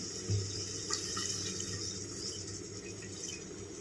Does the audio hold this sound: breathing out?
no